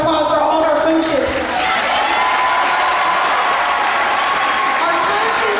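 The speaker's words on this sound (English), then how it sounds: "show our appreciation by a round of applause for all of our coaches" Crowd noise at a school pep rally as the audience applauds the coaches, a dense steady wash of clapping and cheering with loud voices mixed in throughout.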